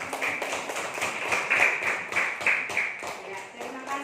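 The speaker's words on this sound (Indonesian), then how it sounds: "Tepuk tangan untuk kelompok C." A classroom group claps for group C, a steady rhythmic patter of hands at moderate loudness, with some voices mixed in throughout.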